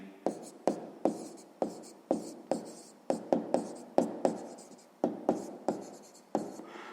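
A pen writing an answer by hand on paper, close and quiet: quick repeated strokes and taps with short pauses between them, a steady scratching rhythm with no talking.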